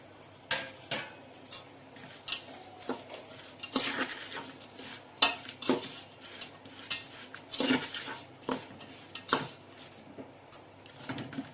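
Grated jaggery is tipped and stirred into mango pickle, giving a run of close metal-on-pot scrapes and clinks in an irregular rhythm with quiet gaps between them and no voices.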